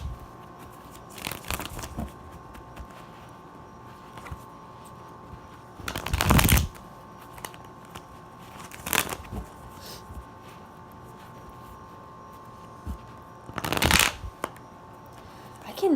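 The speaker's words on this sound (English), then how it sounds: "Let me just shuffle." A tarot deck is shuffled by hand in three bursts of crisp riffling, up close and loud, separated by quiet pauses.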